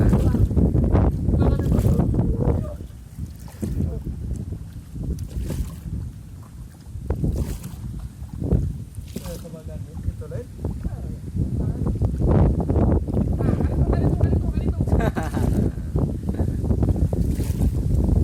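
Medium-sized wooden perahu travelling on the sea, with a continuous rumbling engine and water rush buffeted by wind noise, loud and close, swelling and dipping throughout.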